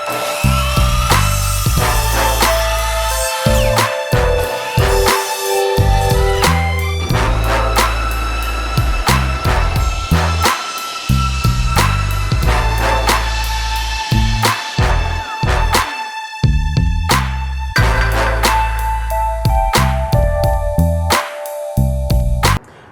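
A power drill whirs in repeated bursts while driving a screw into wooden couch legs, its motor pitch rising and falling with stops and starts, loud and close with no talking.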